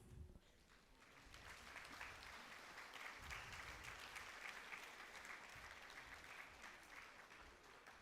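Steady applause at the inaugural session of a mega conference for CA students, a crowd clapping evenly and fairly distant, rising slightly after the first second and holding through to the end.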